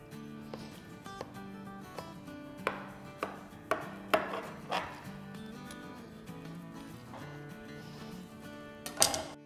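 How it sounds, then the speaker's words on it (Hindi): A knife cuts through a gulab jamun trifle in a dish, giving a series of soft, separate chops at an uneven rhythm over quiet background music. "मैं 2 गुलाब जामुन वाला काट रही हूँ"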